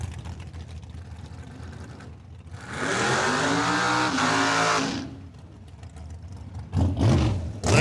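A drag racing car launches and roars down the strip at Cordova Dragway in a loud, sustained engine blast of about two seconds, fading away before a second engine burst revs close by at the end.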